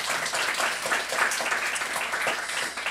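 Worshippers at a Saturday church service clap together in a soft, continuous patter of applause, heard from a distance and fairly quiet throughout.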